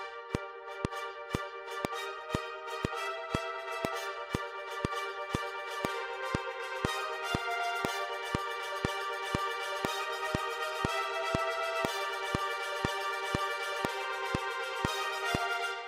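A sustained Audio Imperia Fluid Brass sample with offset set to -20 plays over a steady pulse of regular clicks, the tone continuous and moderately quiet throughout.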